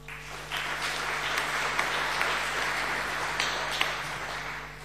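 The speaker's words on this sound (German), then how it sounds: "Applaus" Audience applause at an academic ceremony welcoming an emeritus academy director, full, even clapping from a sizeable crowd starting abruptly and continuing steadily, with a constant low electrical hum underneath.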